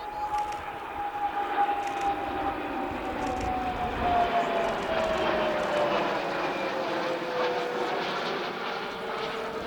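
RAF Voyager airliner-type tanker flying past at the Cosford air show in 2024, a loud sustained jet engine roar with a slowly falling whine as it passes, heard alone.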